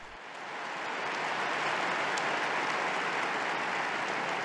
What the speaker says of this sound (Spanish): Un aplauso para la nueva Beata